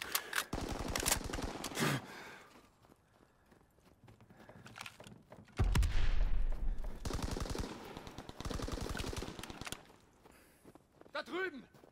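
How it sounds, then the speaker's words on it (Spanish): Bursts of machine-gun fire from Call of Duty: WWII battle, rapid rattling volleys coming and going under shouted voices, with a heavy rumble midway. "¡Sigan disparando!"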